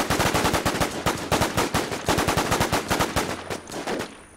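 Loud, rapid automatic gunfire in the zombie game WarZ, a dense stream of sharp shots for several seconds before trailing off.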